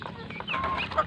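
Pet chickens being fed rice and rice husks, a short burst of soft clucking and murmuring close by, low in level.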